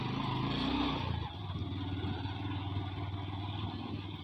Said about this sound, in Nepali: तान्छ मेरो बाइक तान्छ